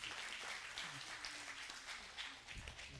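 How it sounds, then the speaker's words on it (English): A church audience applauding steadily, a dense wash of many hands clapping at once, fairly loud throughout. "you can applaud for Joe"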